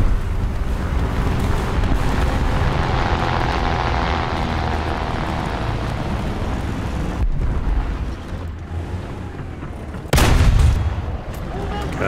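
Tank cannon fire from a T-26 in War Thunder ground battle, a sustained loud rumble of engine and combat noise with a sharp, heavy blast near the end, close and forceful.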